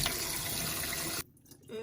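Tap water runs loudly into a sink while raw shrimp are washed, then cuts off abruptly after about a second, leaving faint drips and handling sounds.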